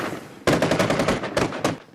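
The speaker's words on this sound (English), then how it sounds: "Gunfire erupted on the streets of the Iraqi city of Kirkuk after ISIS militants launched a surprise attack." Rapid automatic gunfire on city streets in Kirkuk, Iraq, during an ISIS militant attack: loud bursts of close, crackling shots after a brief lull, a short pause, then another burst.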